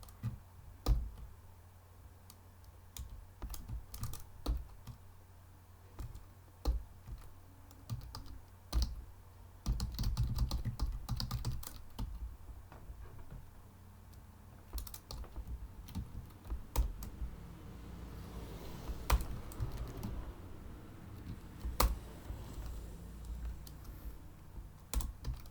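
Code being typed on a computer keyboard: a long, quiet run of irregular close key clicks with short pauses and occasional heavier taps, no voices.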